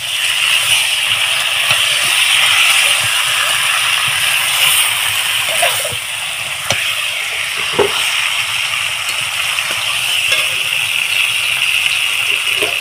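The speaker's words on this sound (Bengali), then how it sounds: "এবারে আমি অল্প সামান্য একটুখানি মশলা দেওয়া জল দিয়ে দিলাম" Spiced water is poured into a pot of chicken curry, making a continuous loud gushing sizzle and hiss with a few faint clinks and stirring knocks underneath.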